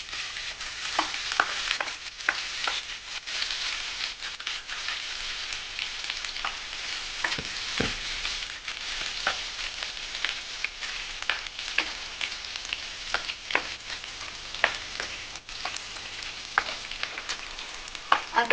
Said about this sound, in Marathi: आता आपण अद्रक आणि लसूण टाकणार आहोत।